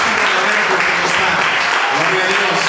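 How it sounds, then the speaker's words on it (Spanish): Congregation applauding in a church service, a steady wash of many hands clapping that fills the whole moment, with a voice faintly present underneath. "Regálenle un fuerte aplauso a nuestro Señor Jesucristo."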